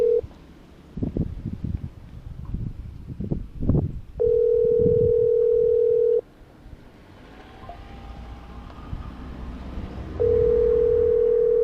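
A telephone dial tone sounds while a call is placed from a delivery driver's car, a steady electronic hum in two sustained bursts separated by a quieter pause, after some brief clunks and rustling.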